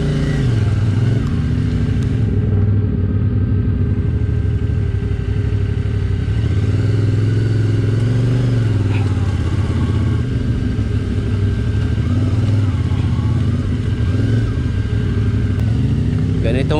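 Several motorcycles ride along a slippery mountain road, engines droning steadily and close throughout with small rises and falls in pitch, while people talk over the running motors.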